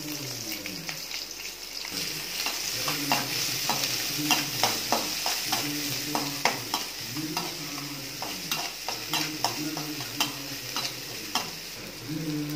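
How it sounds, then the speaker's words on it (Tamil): Onions hit hot oil in a pan for chow chow chutney, giving a loud steady sizzle close by with a regular run of scraping stirs and clinks throughout. "எண்ணெய் கொஞ்சம் காஞ்சோடனே வெங்காயத்தை போட்டுடலாம்"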